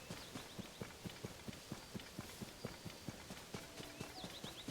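Horse hooves clip-clopping in Zelda: Tears of the Kingdom, a steady even rhythm of crisp hoofbeats at a quiet level with faint game ambience behind.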